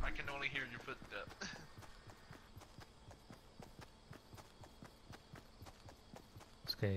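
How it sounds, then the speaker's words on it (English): Rapid footsteps from a Fortnite match tap out a steady, even rhythm at close range, repeating for several seconds, with a brief burst of speech at the start and again at the very end. "I can only hear your footstep."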